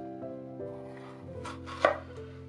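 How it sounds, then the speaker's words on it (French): A knife slices a horn pepper open in two with one quick, crisp cut over a steady tonal hum. "Ouvrir le poivron corne en deux."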